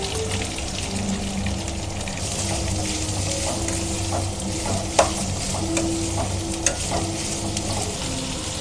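Curry leaves and onion fry in a pan with a steady, close sizzle, broken by a few sharp clicks of stirring.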